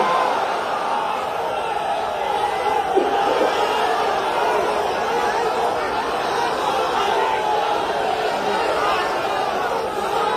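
A large crowd at an Islamic sermon gathering answers with a sustained collective shout and roar, loud, broad and continuous across the whole stretch, with no single voice standing out.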